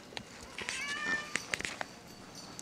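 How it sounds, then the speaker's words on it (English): A house cat meows indoors in the background, one drawn-out, wavering call followed by a few short, softer sounds, fairly quiet against room noise. "There's my cat in the background."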